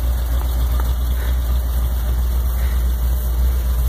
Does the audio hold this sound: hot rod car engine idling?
yes